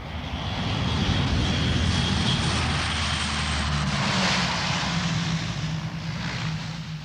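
A Royal Air Force C-130 Hercules transport plane lands on a bomb-cratered stretch of runway during the 1971 India-Pakistan war, its propeller engines roaring loud and steady throughout with no talking.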